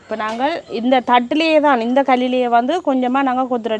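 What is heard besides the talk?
None of the usual background noises is heard.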